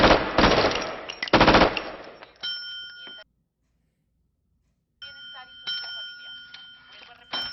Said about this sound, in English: He's yeah, he's got the bell going.